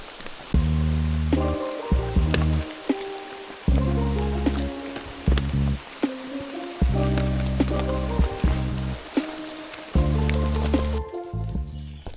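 Steady rain patters on surfaces at a forest campsite in the Porkies, a constant wash of drops heard beneath loud tonal music that plays in blocks throughout.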